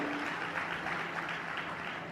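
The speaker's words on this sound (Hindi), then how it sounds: "तालियां जोर से बजाओ" Soft, distant applause from a gathering at a Jain religious discourse welcoming a visiting guest: a diffuse, steady patter at low volume with no clear individual claps.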